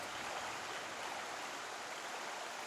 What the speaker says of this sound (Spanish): Orbaneja es famosa precisamente por la cantidad de agua que discurre en su entorno.